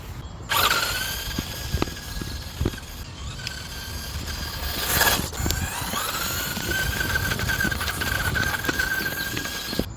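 Brushless CR18P Evo Pro RC crawler running at full speed in second gear, a thin high motor whine rising and falling over faint gear rattle and scuffs, moderately quiet and near, with no talk.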